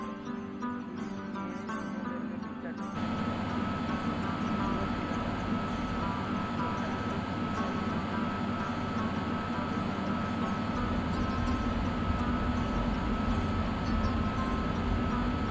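An Indian Railways Vistadome tourist train rumbles along at a steady, loud level, a broad continuous roar with rattling from the carriage and no speech.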